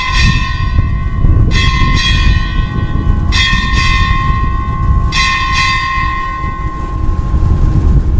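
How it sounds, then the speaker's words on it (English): Ship's bell rings eight bells at a military change-of-command ceremony, struck in spaced pairs with bright metallic clangs ringing out loud over a low background rumble. "Time orderly, strike 8 bells."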